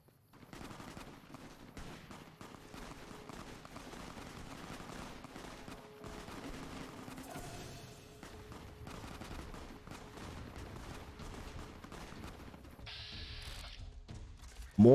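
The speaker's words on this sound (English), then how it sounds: "I can hear gunshots." Rapid bursts of distant gunfire crackle through a constant dull background in Fallout: New Vegas, with mechanical clicks and a sharp chime near the end.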